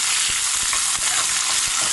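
Ginger and other ingredients sautéing in a pan until dry and crisp for a chutney, giving a bright, steady, close sizzle with faint stirring knocks.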